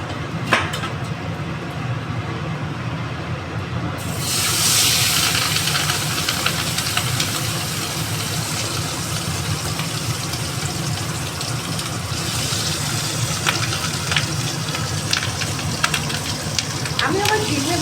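Fish sizzling in a frying pan ahead of cooking eggs, a steady broadband hiss that swells louder after a few seconds and carries on with scattered small crackles and pops, close by with no talk.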